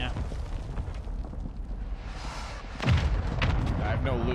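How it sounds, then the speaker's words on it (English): Gunfire in a shooter video game: a steady dull rumble of distant shots, then a louder burst of close firing and a boom near the end, with talk over it. "I'm getting shot on my left."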